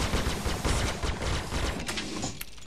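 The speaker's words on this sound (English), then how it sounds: "see if we can get away from this annoying gunfire" Rapid automatic gunfire from the Star Citizen video game rattles on without a break, dense and continuous, with no talk over it.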